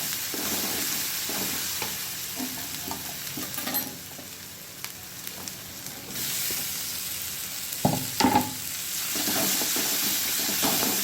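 Tomato and green chili fry in a pan as the base for an egg curry, giving a steady, close sizzle broken by the scrape and clatter of stirring.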